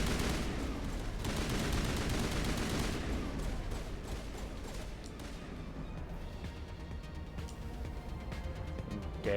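Dense, rapid gunfire in the video game Mass Effect, loud and continuous bursts of shots that ease slightly in intensity toward the end, with no talk over it.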